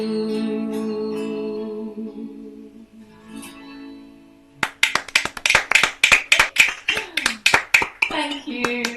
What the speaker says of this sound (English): It did make the clapping sound bigger, though.